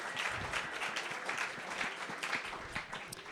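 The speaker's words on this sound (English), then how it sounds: "a hand of applause and gratitude for the EdCo team putting on this event." Audience applause at a company update talk in Bend: a steady, dense wash of many hands clapping together, loud and sustained for the whole stretch with no voices over it.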